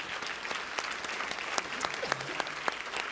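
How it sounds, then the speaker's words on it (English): Applause from a conference audience at an EU agri-food event, a dense steady clapping across the hall that carries throughout, with faint voices mixed in. "Please give everyone a round of applause."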